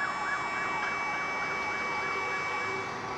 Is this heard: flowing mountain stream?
no